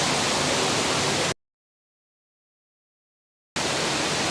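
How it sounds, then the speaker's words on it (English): Roaring waterfall beside the Guinness brewery in Ireland: loud, steady broadband rush of falling water, cut off by a stretch of dead silence in the middle before the same dense roar resumes. "the reason it sounds so noisy is because of the waterfall right there"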